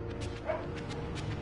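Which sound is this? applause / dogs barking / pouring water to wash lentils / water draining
dogs barking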